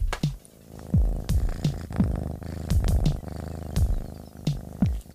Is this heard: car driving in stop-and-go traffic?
no